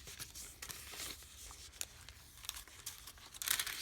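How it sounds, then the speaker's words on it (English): Crunchy piano paper crinkled and flipped by hand, a dense run of close crackling and rustling with sharper crunches scattered throughout, loudest near the end. "just crunchy paper."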